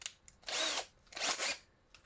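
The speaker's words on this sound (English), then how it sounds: "am I going to drill right through this?" A small power drill boring into a die-cast Matchbox Mercury Cougar toy car, two bursts of high, gritty whirring separated by a short pause, close and moderately loud with faint ticks around them.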